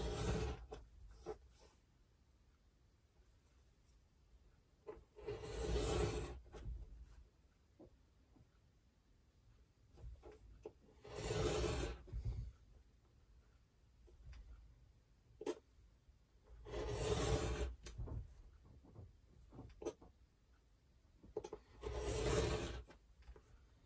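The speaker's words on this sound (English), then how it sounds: "I'm going to cut that into strips" Scissors snip paper into random strips at a craft table, heard as four separate bursts of crisp rasping cuts spaced several seconds apart, with near silence between them.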